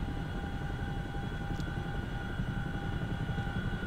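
A Chinook helicopter flies in a video game, producing a steady, dense rotor and engine drone that stays loud and unchanging throughout with no break.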